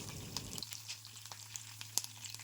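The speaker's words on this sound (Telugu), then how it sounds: "నూనె కాస్త వేడెక్కాక ఆవాలు వేసుకోవాలి నెక్స్ట్ రెండు రెబ్బలు కరివేపాకు అలానే దంచి పెట్టుకున్న ఏడు నుంచి ఎనిమిది వెల్లుల్లి రెబ్బల్ని వేసుకుందాం" Mustard seeds, curry leaves and crushed garlic sizzle in hot oil for a lemon pickle, making a faint, continuous hiss dotted with small scattered crackles and pops, with no talking.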